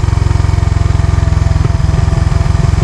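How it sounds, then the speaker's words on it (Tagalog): A motorcycle engine drones under engine braking as the clutch lever is let out slowly, a loud, low, steady pulsing hum with an even throbbing rhythm and no talking. "bitawan din natin yung clutch lever ng dahan-dahan at pusa na yung uugong yan na yung tinatawag na engine brake"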